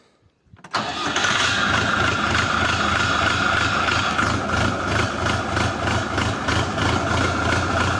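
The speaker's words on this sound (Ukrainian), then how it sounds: "Все забігло." A Scout TE 504 tractor engine starts after a short quiet moment, then settles into a loud, steady idle with an even rhythmic throb, close by and with no talking.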